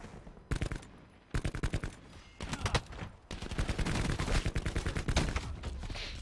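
Rapid automatic gunfire from the video game Black Ops 4, played with a XIM Apex setup: loud bursts of shots come in quick clusters separated by short pauses, with a long sustained stretch of fire near the end.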